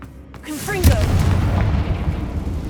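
A Confringo fire spell blast from the game Hogwarts Legacy, set in a mine among Ranrock's loyalists: a sudden loud whooshing boom that follows a short rising tone, then a sustained roar that fades slowly.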